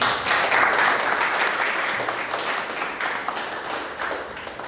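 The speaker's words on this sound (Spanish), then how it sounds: "de nuevo aplausos para el profesor" An audience bursts into sustained applause for a professor after a lecture on spin-transition nanoparticles. The clapping is dense at first, then gradually thins and fades.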